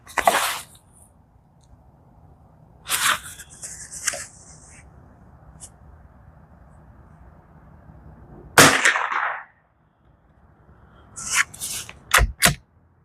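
A Savage Mark II rifle firing Federal Automatch rounds gives two sharp, close reports several seconds apart, with a few fainter clicks and clanks between and after them over a quiet background.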